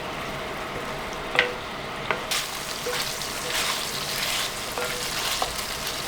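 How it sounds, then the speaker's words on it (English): Beef medallion steaks sizzle steadily in a hot tagine, a close hissing broken by a few sharp pops and the light scrape of stirring. "So keep frying until the meat starts to go brownish."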